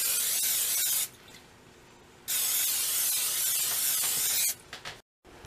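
Cooking oil sprays from a can onto zucchini slices for lasagna in two short hissing bursts, close and fairly loud, with a brief third puff at the end.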